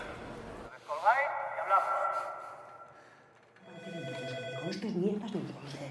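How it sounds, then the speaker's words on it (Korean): A telephone rings over and over at a bank during a hostage standoff, its repeated electronic trill loud and near, with music or other sound swelling beneath it in the later part. "계속해서 울리는 전화벨"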